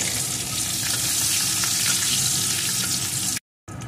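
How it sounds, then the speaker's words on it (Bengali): Nigella seeds and chopped garlic fry in hot oil with a steady, loud sizzle throughout, broken by a brief cut to silence near the end. "एखन एगुलोके एकटू भेजे नेब"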